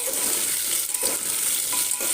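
Pumpkin pieces fry in a pan over a medium flame, a steady bright sizzle with a few soft stirring scrapes, close and continuous without speech.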